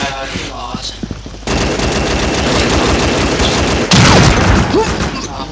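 Rapid bursts of gunfire in the video game Combat Arms, dense and loud, with a heavier blast near the end and some voices mixed in at the start.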